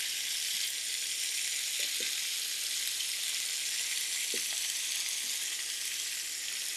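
A katla fish head coated in turmeric, chilli, coriander and salt fries in oil, giving a steady hissing sizzle with a few faint taps from turning it, and no voices.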